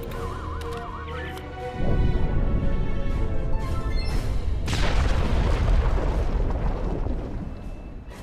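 A deep, rumbling explosion in the video game Star Trek Online bursts in after a short electronic warble, then a second heavier blast follows. The rumble sustains loudly and fades slowly.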